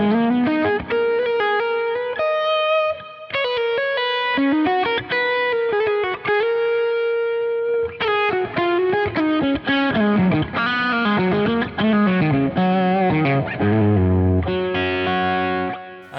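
An electric guitar runs through a Line 6 Helix set to a lead tone with moderate gain, light delay and reverb, playing a sustained, expressive melodic line with bends and faster runs, loud and continuous.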